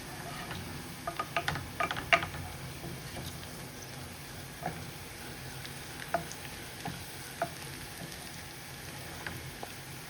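Hot oil poured over cooked dal gives a faint, steady sizzle with scattered crackles and pops, quiet and close, with no talk.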